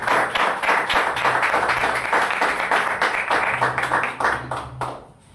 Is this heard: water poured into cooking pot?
no